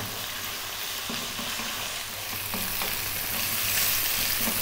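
Garlic frying in a pan crackles steadily, with repeated light scrapes and taps from stirring. The sizzle grows a little louder toward the end, stays close, and has no voices over it.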